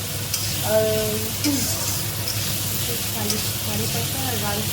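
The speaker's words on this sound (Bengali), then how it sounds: "পেঁয়াজ আর কাঁচা লঙ্কা আমরা দিয়ে দেবো।" Onion and green chilli frying in a pan, a steady bright sizzle under occasional stirring scrapes, close and loud, with a voice speaking briefly over it.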